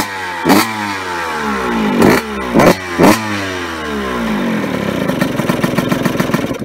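A Suzuki RM125 two-stroke dirt bike kicks over several times with bursts, then catches and runs with a loud, rapid, rough idle close by.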